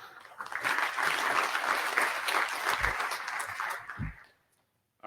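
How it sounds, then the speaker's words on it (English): Sustained applause from a conference audience for a presenter at a networking research workshop, steady clapping for about four seconds before it fades out and stops. "Please, let's give him a round of applause before he gets going."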